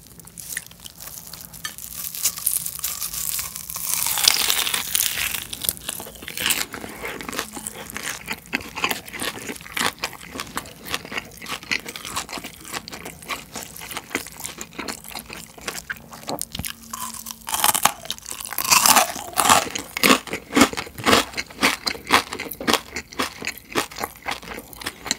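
Bites into pressure-cooked fried pork belly from a failed batch whose collagen layer cooked away, giving crumbly rather than crisp crunches, repeated close up and unevenly throughout with a louder cluster near the end; no talking.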